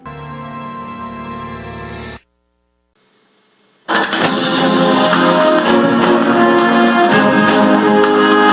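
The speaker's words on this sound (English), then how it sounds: "And as the taxi drove away." Car engine of a taxi pulling away in an audio drama, a brief rumble cut by a moment of near silence before a louder, dense wash of engine and road noise swells up and holds.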